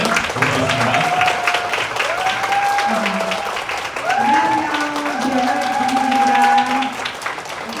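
Audience applause at a business team meeting welcomes a guest to the stage, a steady patter of many hands clapping under continuous sustained vocal tones and talk, fairly loud and unbroken across the whole stretch.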